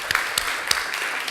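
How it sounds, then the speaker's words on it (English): Audience applause at an Ontario Real Estate Association event: steady, dense clapping from a room full of people with a few sharper individual claps standing out, moderately loud and continuous throughout. "A huge hand of applause for our Ontario Real Estate Association Board"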